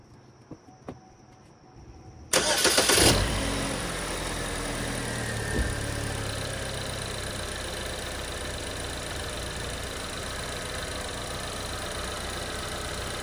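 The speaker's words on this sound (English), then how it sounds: "So first, we're going to start the engine." After a brief quiet moment, an engine cranks and catches with a loud burst, then settles into a steady, even idle.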